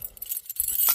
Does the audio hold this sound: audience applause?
no